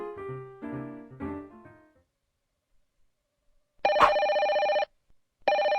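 A telephone rings in an office setting, heard as two loud electronic bursts after a short melodic chime passage and a pause, with no talk over it.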